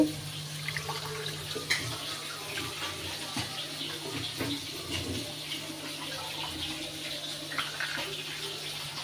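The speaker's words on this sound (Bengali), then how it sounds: "আমি আলু ভাজিগুলো ধুয়ে নিচ্ছি।" Finely cut potato slices are rinsed under running water in a kitchen sink, with a steady broadband wash of flowing water and light clatter throughout, and no talking.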